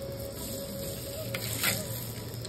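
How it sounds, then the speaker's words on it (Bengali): Turmeric and salt hit hot oil in a pan and sizzle with a steady, close hiss, broken by a short crackling flare partway through, with no voices. "তো তেলটা গরম হয়ে গেছে, এর মধ্যে আমি একটু হলুদ দিয়ে দিলাম, একটু নুন দিয়ে দিচ্ছি।"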